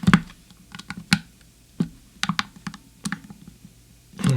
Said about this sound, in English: Let's get these screws back in.